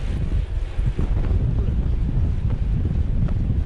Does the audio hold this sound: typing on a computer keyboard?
no